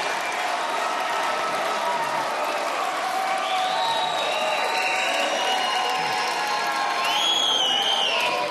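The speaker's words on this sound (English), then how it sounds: "He's got a very enthusiastic crowd lined up in Minnesota." An enthusiastic crowd at a political rally in Minnesota cheers, whoops and applauds steadily throughout, loud and continuous with shouts rising over the clapping.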